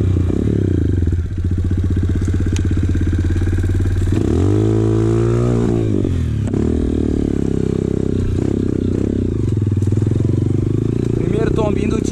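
A Honda CRF 230 dirt bike engine idles loudly on a trail after a fall, then revs up and down in bursts, close by, with someone talking over it.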